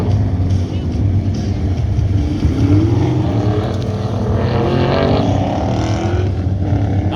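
A drag racing truck, a Chevy C10 in the truck class at an NMCA event, roars loudly and steadily past the finish line, with a deep engine drone and a rising pitch.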